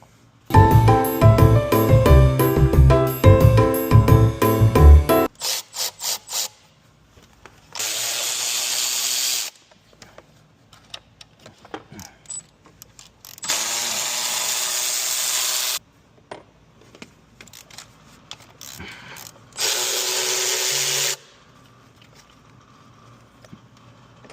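A power tool drives the fasteners securing the fuel rail to the intake plate on a 6.7 Cummins engine, opening with rapid ratcheting hammer bursts, then several separate sustained whirring runs of a few seconds each with quiet gaps between them, close up.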